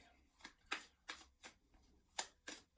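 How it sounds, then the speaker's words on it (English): Tarot cards being shuffled by hand in quick riffling bursts, six distinct crisp rustles spaced roughly evenly, close and fairly quiet with no talking. "Shuffling them, I drew the cards"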